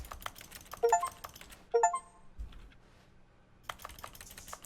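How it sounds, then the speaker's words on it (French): Keyboard typing clicks in the Stanley Parable video game, a few short bursts of rapid key taps separated by brief pauses, close and clear with no voices. "Chaque fois que je clique, c'est un bruit de clavier."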